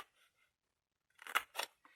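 Scissors make two or three quick crisp snips while cutting straight through material, after a short faint rustle and then near silence.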